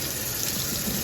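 Water gushes steadily from a faucet into a kitchen sink, a close, continuous hissing splash with no break and no voices.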